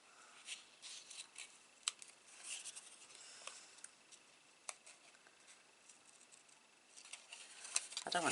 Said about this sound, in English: When we fussy cut, we tend to go round like a die would.